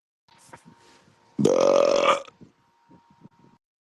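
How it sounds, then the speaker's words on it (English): A listener's voicemail carries one loud, drawn-out burp lasting about a second, framed by faint, brief murmurs and rustles just before and after. "Somebody burped into the speak pipe."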